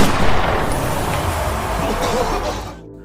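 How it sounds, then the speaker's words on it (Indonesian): Loud gunfire in an action film scene where a scattered package is shot: a dense, continuous volley of blasts and crackle that carries with little break, then drops away abruptly at the end. "isi paket yang berhamburan ditembak oleh Shaun"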